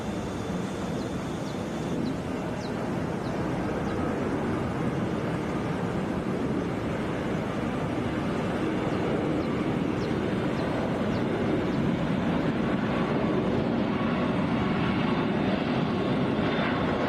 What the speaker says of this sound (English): This is Southwest 591 coming in from Baltimore on a brand new Boeing 737 MAX 8.